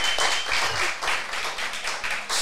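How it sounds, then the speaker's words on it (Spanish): Audience applause at a Spanish-language talk on the Protestant Reformation, a dense, steady patter of many hands clapping together for a couple of seconds, close and fairly loud, with no voices over it. "falta el aplauso, falta el aplauso. Un aplauso, un aplauso"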